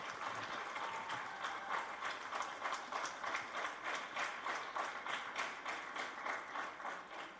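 Steady applause from an audience, a dense wash of many hands clapping with a gentle rhythmic pulse, continuing at an even level throughout.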